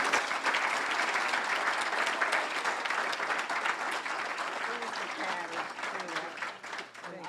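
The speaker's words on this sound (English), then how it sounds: "And let's have a round of applause for Gail." An audience applauds Gail in tribute to her decades of service, giving dense, sustained clapping from a crowd that stays steady and then thins slightly toward the end.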